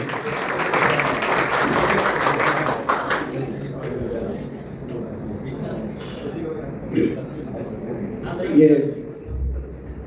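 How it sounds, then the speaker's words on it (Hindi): A concert audience at a tribute show in Dammam breaks into loud applause that fills the first few seconds, then fades into crowd murmur and scattered claps while people talk over it. "जोरदार तालियां"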